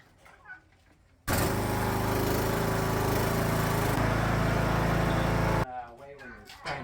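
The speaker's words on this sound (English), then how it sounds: "let's move our lawnmower forward so we can try it out" A riding lawnmower engine suddenly roars to life, running loud and steady for about four seconds before cutting off abruptly, with people's voices faintly before and after.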